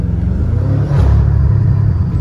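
A 700-horsepower car revs hard with its wheels spinning, a loud, close, continuous deep engine roar that swells briefly in the middle.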